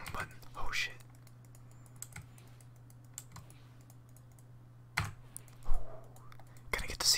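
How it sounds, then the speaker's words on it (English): Computer keyboard typing and mouse clicking during League of Legends play, soft and close, with irregular bursts of keystrokes over a steady low hum, plus a few quiet breathy whispers. "You like the keyboard sounds?"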